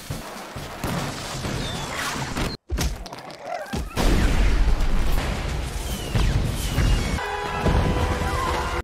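A chaotic series of firecracker explosions in the animated film Minuscule: Valley of the Lost Ants, sharp bangs and crackling bursts, loud and close, with thuds and pops overlapping in rapid succession.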